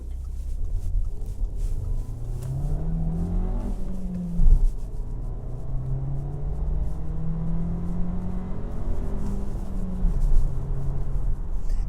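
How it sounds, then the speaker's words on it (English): A 1.4-litre TFSI petrol engine in an Audi Q2 pulls steadily, with a low droning rumble whose pitch climbs through the gears and dips once at a shift. The engine note stays moderate, with no talking over it. "what you actually hear comes from the engine"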